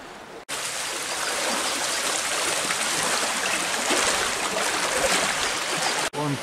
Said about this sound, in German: Und da kommt richtig ein ordentlicher Wasserfall runter vom Oderteich.